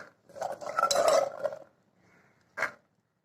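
Soaked chickpeas tip into a metal pressure cooker with a rattling, clinking rush of about a second, followed after a pause by one short metallic knock.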